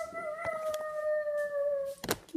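A dog lets out one long, steady howl up close that glides slowly downward in pitch, and brief clatters and thumps are heard around it.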